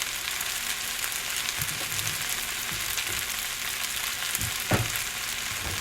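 Cabbage and carrots stir-fry in oil in a wok with a steady, loud sizzle throughout, broken by occasional soft scraping and tossing knocks.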